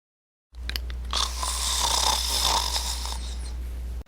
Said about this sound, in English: I can hear your snoring from where I am.